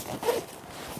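Zipper on the door of an Upland 2 two-person backpacking tent being pulled open, a short close rasping run lasting under a second, alone with no talk.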